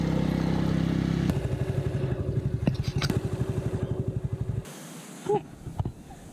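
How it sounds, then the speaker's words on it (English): A motorbike engine labors up a steep, narrow road through a tea valley in the Cameron Highlands, a steady rough drone with rhythmic chugging pulses that fades and cuts out near the end, then brief knocks. "The bike is struggling to go up."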